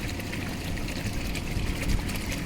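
Irrigation water from a motor pump pours steadily onto a dry, cracked crop field, a continuous rushing splash that holds at moderate loudness throughout, with no talk.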